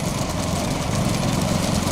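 A farm tractor engine drones steadily and loudly during a village temple festival procession, a constant low rumble with no pauses and no talking.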